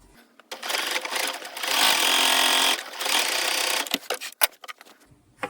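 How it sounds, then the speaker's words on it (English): A sewing machine stitches the inner leg seam of a child's pair of shorts in steady bursts of rapid whirring, close up, with brief pauses and clicks of handling between runs. "I'm stitching each pant leg together, front and back, at the inner leg seam."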